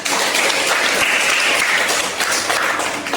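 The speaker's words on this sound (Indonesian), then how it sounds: "Tepuk tangan semuanya" Loud, dense applause from a class of students in a school setting, a continuous steady roar of many hands clapping close by with no break throughout.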